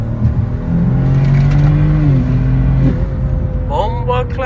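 A turbocharged BMW 540i pulls hard under full throttle, a loud steady engine drone rising in pitch before easing off, with a tire-spin whine near the end.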